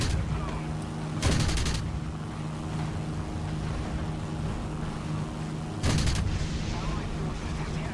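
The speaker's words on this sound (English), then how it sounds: "You could just strap on a honkin' 50mm cannon under your nose" In War Thunder, a 50mm nose-mounted aircraft cannon fires two separate rapid bursts at ground targets, heavy and punchy over a constant loud engine drone.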